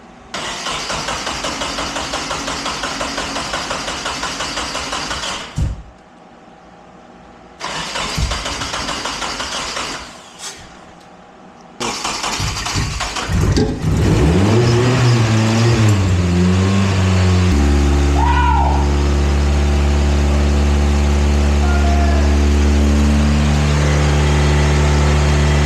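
A Nissan 240SX S13 with a turbocharged KA24DE cranks in two bursts of starter whine, then catches and fires up, revving loudly before settling into a steady, rumbling idle close by.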